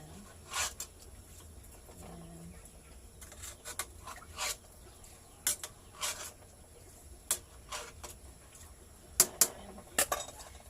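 A lid settles onto a pot of cassava simmering in coconut milk with brown sugar, giving scattered metallic rubs and light clinks, close and soft, with some louder knocks near the end.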